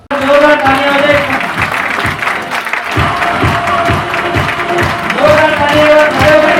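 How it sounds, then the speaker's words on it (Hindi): Loud audience clapping at a gathering in Nepal fills the room continuously and close by, with a crowd murmur beneath and a short dip midway before the rhythmic clapping resumes. "जोरदार तालियां हो जाए।"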